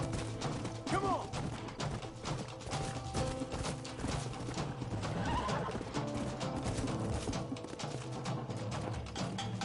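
A horse in the video game Red Dead Redemption whinnies and gallops with quick clip-clop hoofbeats over game ambience, with brief sharp neighs near the start and middle.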